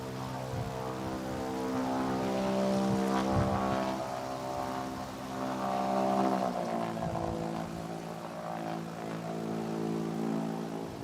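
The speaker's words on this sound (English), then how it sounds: "that sound you can hear there is Rich Goodwin starting in the jet pits." A jet aircraft starts up in the jet pits at an airshow, giving a continuous, moderately distant engine drone that swells and shifts in pitch, with no voices over it.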